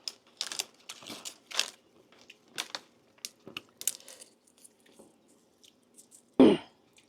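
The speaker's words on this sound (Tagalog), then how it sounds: "Inuubo ako" After a stretch of soft crunchy clicks and rustling from eating tortilla chips, a single loud, close cough bursts out near the end.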